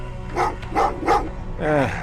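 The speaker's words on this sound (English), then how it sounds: "Oh, what's with the dogs?" Dogs barking in Terminator Resistance, three quick barks followed by a longer whining yelp, fairly close and clear.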